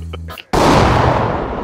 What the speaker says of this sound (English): I killed him with the shotgun shot.